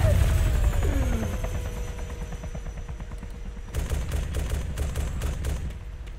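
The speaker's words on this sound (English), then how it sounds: "Shoot the chopper!" Helicopter rotor thumping steadily in the video game Arma 2, close and loud, mixed with bursts of gunfire, with voices briefly audible early on.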